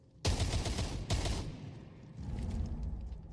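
Gunfire in an esports video game match: a dense burst of rapid shots, a second burst about a second later, then a lower rumbling of continued fighting, all fairly loud with no voices.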